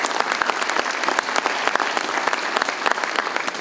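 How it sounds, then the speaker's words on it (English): Audience at a city's state of the city address breaks into applause, a dense patter of many hands clapping close by, steady and lively throughout. "So round of applause for you guys on that."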